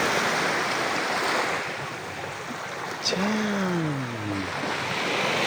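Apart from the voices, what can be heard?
calm sea waves at Puerto Galera beach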